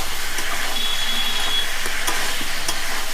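Young jackfruit curry is stirred and sautéed in a pan, giving a steady close sizzle of frying broken by repeated scraping strokes of the spoon against the pan.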